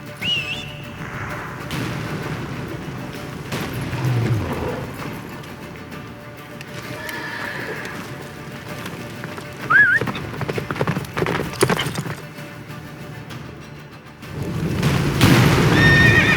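Roach, Geralt's horse in The Witcher 3, galloping with rhythmic hoofbeat clip-clops and a couple of whinnies, among booming impacts and whistling effects, loud and close with swells of game action.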